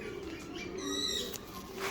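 Faint, low cooing of Lakha breed pigeons, a couple of soft throaty calls close by against a quiet background.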